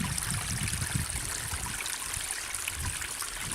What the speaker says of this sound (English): I'll just show you the little beck trickling down